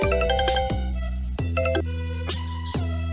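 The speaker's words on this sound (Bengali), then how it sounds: "আরে কে ফোন দিল আবার?" A mobile phone ringtone plays a bright, repeating electronic melody, loud and close, cycling through its short phrase several times without any voices over it.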